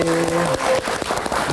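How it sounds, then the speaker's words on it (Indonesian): A brief burst of studio audience applause on an Indonesian late-night live talk show: dense, loud clapping that swells and fades within a second and a half. "Sudah ada Melanie Subono, kita berikan tepuk tangan lagi."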